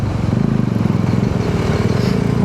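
A single-cylinder motorcycle tricycle cruising along MacArthur Highway in Apalit, Pampanga, its steady close engine drone running continuously with no talk.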